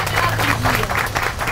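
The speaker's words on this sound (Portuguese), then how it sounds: "Uma salva de palmas!" Crowd applauding a poet being called up to open a poetry evening (sarau): loud, smeared, continuous clapping and crowd noise close by, with a low hum and voices underneath.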